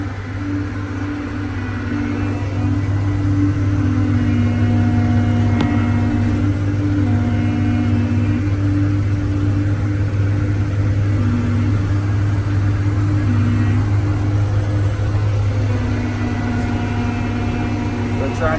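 A tractor pulls a harrow along the edge of a hillside field, its engine a steady loud drone with a deep hum and faint whining tones throughout, holding constant with no pauses.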